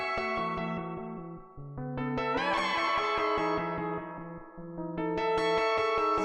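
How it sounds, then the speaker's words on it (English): Synthesizer notes step through a pattern drenched in springy reverb and tape echo from a Noise Engineering Clep Diaz module, with a swelling, smeared feedback wash in the middle before the notes return clearly. "I'm gonna get some more spring reverb."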